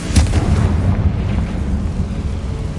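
A Confringo blasting spell in Hogwarts Legacy goes off as a single loud, deep boom that rolls into a rumbling low tail fading over a couple of seconds.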